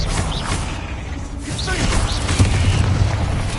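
Confringo and Expelliarmus spells cast in Hogwarts Legacy, heard as quick whooshing bursts and a dull boom with mechanical clatter, close and loud amid busy combat effects.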